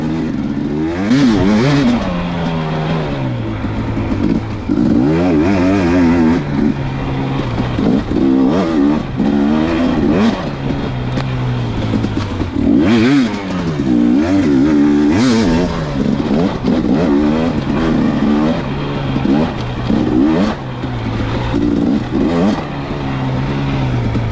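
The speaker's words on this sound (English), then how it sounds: "it definitely feels like the bike pulls stronger for longer" A 2019 KTM 250 XC two-stroke dirt bike is ridden hard around a lap, its engine loud and close with constant revving, rising and falling pitch through gear changes and throttle blips, and no pause throughout.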